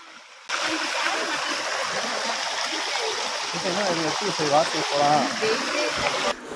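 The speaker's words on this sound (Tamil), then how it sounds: "இதுதாங்க நான் சொன்ன ஃபால்ஸு" Tada waterfall in Andhra Pradesh rushes and splashes in a continuous broadband wash that starts abruptly and runs steady and fairly close, with a person talking over the flowing water.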